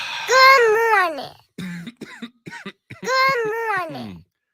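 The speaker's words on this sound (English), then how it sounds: "Keep coughing." Coughing in a live morning sports radio studio: a few short, harsh bursts sit between longer voiced, throaty sounds, close and fairly loud.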